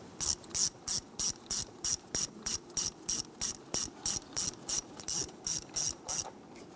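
A ratchet snugs down a bolt while a camshaft position sensor is replaced on a 2011-2021 Jeep Grand Cherokee 3.6L V6, giving a steady run of about seventeen evenly spaced clicking bursts, close and clear with no talking.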